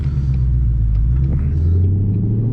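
A car fitted with JEGS aluminum race seats pulls hard under acceleration, a loud close low engine rumble heard from the cabin, with the pitch rising slightly toward the end.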